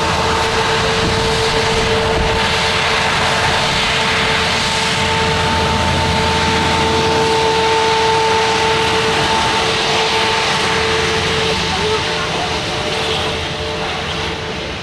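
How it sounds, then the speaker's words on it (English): A TUI Boeing 737 MAX 8 at Manchester Airport makes a loud, sustained jet engine roar with a steady whine, close and continuous for the whole stretch. "TUI Boeing 737 MAX 8."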